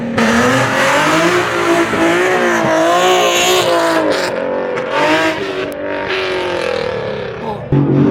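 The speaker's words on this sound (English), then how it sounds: "Rev it!" Car engine revving hard with squealing tires at a street car meet turning into a takeover, loud and continuous, with rising and falling engine pitch and crowd shouting over it.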